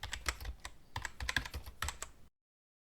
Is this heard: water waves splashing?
no